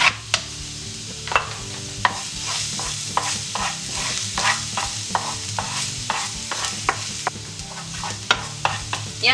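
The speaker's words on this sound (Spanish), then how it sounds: "Ponemos una sartén con un poco de aceite y echamos el ajo picado" Chopped garlic frying in a little oil in a pan, for a spicy sautéed seitan: a steady close sizzle broken by repeated sharp scrapes and taps of stirring throughout.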